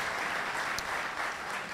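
Audience applause at an evening community forum on mental health in a venue, steady dense clapping throughout, moderately loud and unbroken with no voices.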